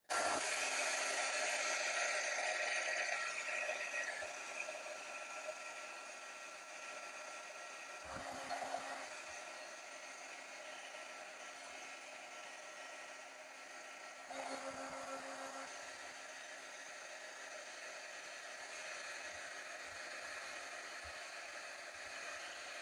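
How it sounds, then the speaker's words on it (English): A heat gun shrinks glue-lined 3:1 heat-shrink crimp connectors while wiring front USB ports into a 2006 Honda Odyssey EX-L, giving a constant airy hiss, strongest at the start and then steady, with a few brief handling bumps. "So I have my heat gun here."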